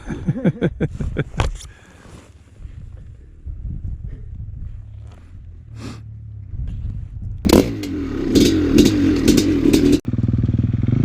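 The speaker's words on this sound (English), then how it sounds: "I think 442 stroke cc's is more than enough to make it up that, Toby." A 1996 Maico 440 two-stroke dirt bike climbs a loose hill, its engine revving in sharp pulses, then easing off, then roaring loud and close under full throttle with scraping and clatter.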